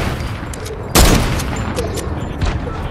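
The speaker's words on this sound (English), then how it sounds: "I'm sniping them with a boom sniper" A boom sniper rifle fires in a Fortnite duos match: one loud, sharp blast near the one-second mark, then a lingering rumble and a fainter shot later over steady game background noise.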